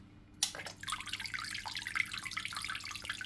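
Water from a PAWFLY nano aquarium filter's spray attachment starts abruptly and splashes steadily into a sink, a close, bright, bubbling patter over a low hum.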